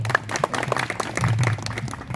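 An audience at a Nuapada district ceremony claps for an honoured guest, a brief burst of scattered applause over a low steady hum, moderately loud and close.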